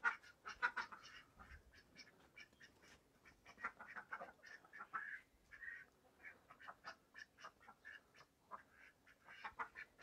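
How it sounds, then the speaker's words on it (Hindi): Ducks at a small home organic farm give repeated nasal quacks in quick, uneven bursts. They sound close but quiet, with short gaps between calls and no talking. "हाँस हाँस हाँस."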